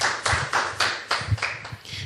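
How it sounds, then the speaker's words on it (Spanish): Church congregation clapping in unison during a service, a steady rhythmic beat of about eight sharp, close claps at even intervals, loud and clear with a slight room echo. "Un fuerte aplauso para nuestro Señor."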